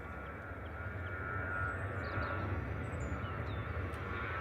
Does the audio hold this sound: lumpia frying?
no